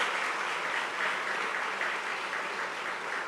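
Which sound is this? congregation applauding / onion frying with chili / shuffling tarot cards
congregation applauding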